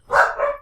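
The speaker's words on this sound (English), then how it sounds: "the dog started to bark at an imaginary visitor outside that wasn't actually here" A dog barks twice in quick succession, close and fairly loud, at an imagined visitor outside; the two barks run together with no talk over them.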